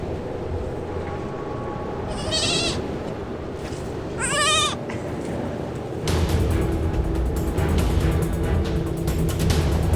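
Olda the goat, mascot of the Kozel brewery, bleats twice in quick wavering cries over steady outdoor noise, followed by a louder stretch of background clatter and bustle.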